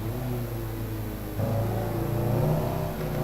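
Honda Civic EG engine revving in Assetto Corsa, a steady humming drone that rises in pitch and loudness as the revs climb partway through.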